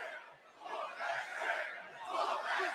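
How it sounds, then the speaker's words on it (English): A wrestling arena crowd at a WWE SmackDown event chants loudly and in unison, the massed voices swelling and falling in rhythmic waves that fill the space. "you can hear the crowd chanting, whoop that Trick"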